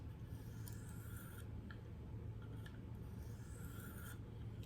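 A Kershaw Reverb knife blade is drawn across a fine 1500-grit stone on a KME guided sharpener, making faint, soft rasping strokes that repeat at an unhurried rhythm over a low background hum.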